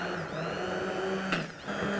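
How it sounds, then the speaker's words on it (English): An immersion blender whirs steadily through a buttermilk mixture, a continuous motor drone with a brief louder surge partway through, close and alone with no talking. "I'm gonna use this immersion blender to blend it together"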